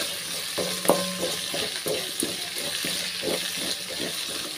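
Onions frying in a pan until brown for a tamarind-based kuzhambu, a low continuous sizzle broken by regular scraping strokes of a spatula, heard close and alone.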